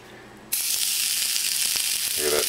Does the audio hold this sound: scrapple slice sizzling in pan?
yes